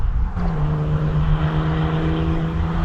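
A car with a loud, leaky exhaust muffler drives off at night, its engine a steady, heavy low drone that stays loud and close throughout.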